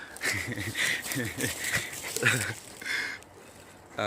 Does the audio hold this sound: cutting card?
no